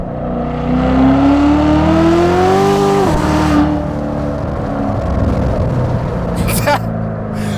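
A 650 hp 2019 Corvette C7 Z06 engine revs up, its pitch climbing and then dropping, loud and close, with a rough idle rumble afterward.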